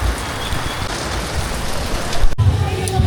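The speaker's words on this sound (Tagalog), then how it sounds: "Ngayon naman binagsak yung lakas ng ulan." Heavy rain pours down in a dense, steady hiss with low rumbling, close and loud throughout.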